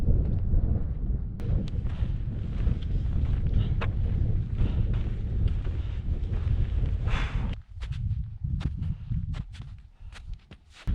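Strong wind roars steadily across the microphone high on a Colorado Trail mountain pass as a cold front moves in, loud and continuous before easing into gusty buffeting with scattered clicks.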